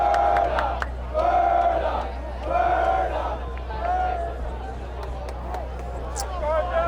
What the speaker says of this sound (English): You may hear the crowd noise pick up a little bit as we are having our pep rally tonight.